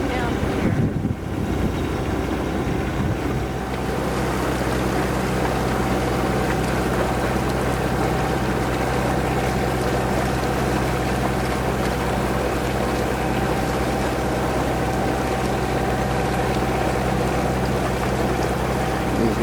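Motorboat engines drone steadily on the water, a close, continuous low hum with wind and water wash, holding level from start to finish with no voices over it.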